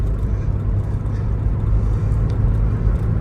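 A Citroen XM pulls away, its engine giving a steady, close low rumble that holds evenly throughout with no voices.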